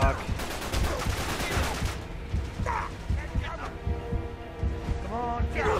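Rapid, rhythmic bursts of automatic gunfire in Uncharted 3 dominate the start, then thin into scattered shots and low mechanical hum, with a few tonal game cues near the end.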